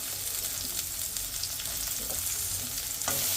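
Onions fry in a pan with a constant crackling sizzle and occasional stirring scrapes, heard up close and without any talk.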